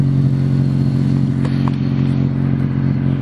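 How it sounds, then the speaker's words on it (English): A 9th-generation Honda Civic Si engine idles just after a DW65C fuel pump install, with a steady, even low hum close up and one faint clatter midway, no talking. "I'm just gonna let the car idle real quick and get an operating temperature."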